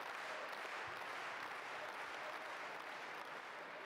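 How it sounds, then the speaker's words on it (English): Audience applause at a table tennis match during the 2017 German Open, a steady wash of clapping from a crowd in an arena that holds evenly for several seconds, with no talk over it. "While there are no names attached to those claps, it's clear that it's for Dima"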